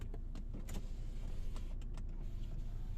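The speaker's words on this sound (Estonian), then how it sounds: "nüüd ma klõpsin läbi kõik aknanupud" Power windows on a 2007 Ford S-Max diesel being worked through with the window buttons, giving a few short motor whirs and clicks over steady low cabin rumble, close by.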